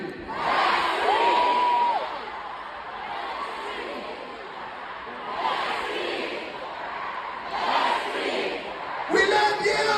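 Huge stadium concert crowd roaring and shouting back in unison, sustained waves of loud cheering with a whistle and swelling bursts of yelling across the whole stretch.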